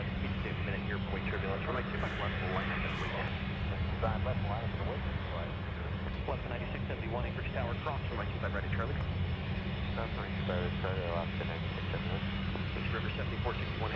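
An Asiana Boeing 777 takes off at Anchorage airport, its jet roar a steady, broad rumble from a distance, with a voice talking over it throughout.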